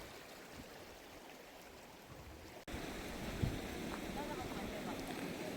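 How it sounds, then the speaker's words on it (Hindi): Glacier meltwater stream rushing through Balimik Valley near Skardu, a constant broad roar with cold wind buffeting the microphone, a short dropout in the middle. "ये सारा देखिए ग्लेशियर का पानी आ रहा है"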